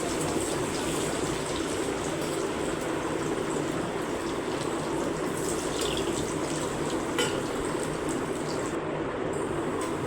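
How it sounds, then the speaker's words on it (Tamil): Cauliflower pieces fry in hot oil, giving a steady, dense bubbling sizzle that runs unbroken throughout, close and fairly soft, with no one talking. "இப்போ காலிஃப்ளவர் போடுறப்ப இப்படி எண்ணெயில் பபுள்ஸ் தான் வருதா"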